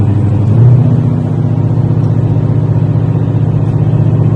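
A 2020 Ford GT500 with an SSP dual-clutch transmission upgrade: a steady, loud engine drone with a brief rise in pitch early on, close up, with no talking.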